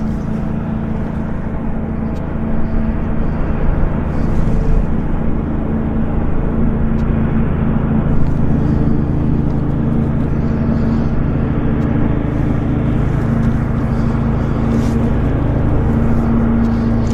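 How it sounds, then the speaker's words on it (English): Boeing 777 jet engines spooling up during pushback at Vancouver airport, a steady loud low drone with a sustained harmonic whine running continuously throughout. "I just love the harmonic when a 777 starts its engines."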